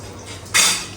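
A single sharp metallic clatter as a karahi is picked up and set down, after a moment of quiet room noise.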